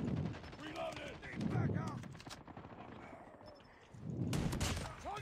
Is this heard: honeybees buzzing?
no